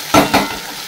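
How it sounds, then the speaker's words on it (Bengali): A spice paste fries in a pan with a loud, close sizzle, and two quick stirring scrapes break through the hiss. "এইটাকে একটু ভেজে নিয়ে তারপর হলুদ দিয়ে মশলাটা দিয়ে দেবো"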